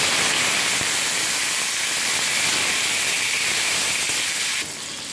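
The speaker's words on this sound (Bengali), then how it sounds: "এবার দিয়ে দেবো টমেটো কুচি" Chopped tomato hits hot oil tempered with whole cumin, cardamom, cloves and cinnamon, giving a loud, steady broadband sizzle and hiss that holds evenly before dropping slightly in level near the end, with no voices.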